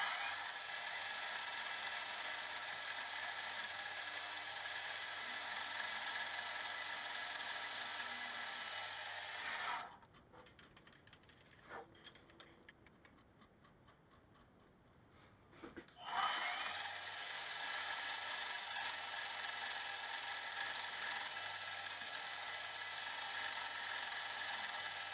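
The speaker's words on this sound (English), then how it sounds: "then it's easy to drill the hole 1/4 inch deep" A 3/32 hole is drilled into the cylinder of a Stuart Progress oscillating engine on a small milling machine. A steady, loud, high-pitched machine whine runs throughout and drops out briefly in the middle before resuming.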